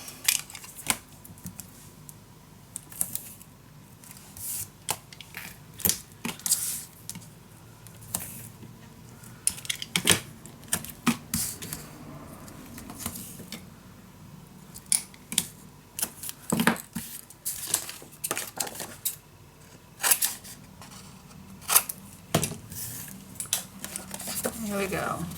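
Paper being scored and cut by hand for a scrapbook album, with repeated short scraping strokes and snips in an irregular rhythm, up close, under intermittent talking.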